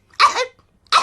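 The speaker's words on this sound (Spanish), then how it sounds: "Los adultos se han contagiado y tienen tos." Two short, harsh coughs from a cartoon pig character, close and loud with a brief pause between them, alone.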